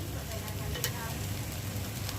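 Besan poli cooking in oil on a hot griddle gives a steady, low broadband sizzle throughout, with one brief sharper crackle partway through and no talk over it.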